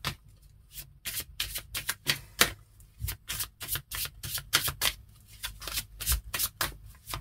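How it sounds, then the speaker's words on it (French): Tarot cards being handled and drawn from a deck, a run of quick crisp flicks and slaps in irregular bursts, close and fairly quiet with no talk. "Je vais tirer une autre carte pour vous."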